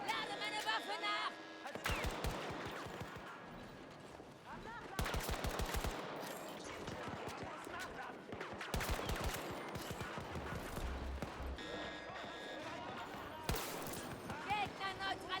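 Rapid automatic gunfire in Battlefield 2042 comes in repeated loud bursts and sustained rattling volleys, with brief pauses between them and voices speaking during the shooting.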